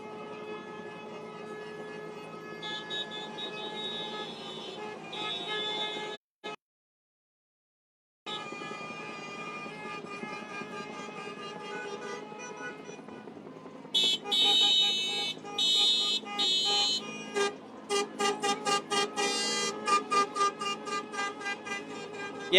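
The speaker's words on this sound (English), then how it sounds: "as protesters walk past, there's honking" Car horns honk repeatedly as a large crowd of protesters marches past on a city street in Louisville, the horns sounding in a series of short bursts over a constant crowd and traffic din, with a brief gap of silence midway.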